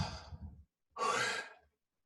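A deep, breathy exhale during breathwork, close and soft, preceded by a shorter breath and a brief pause.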